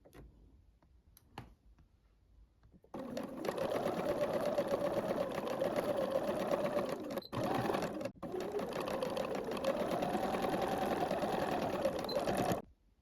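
A sewing machine runs a straight stitch at length 3 with a size 80 needle, a fast, steady, close mechanical whir broken by two brief pauses.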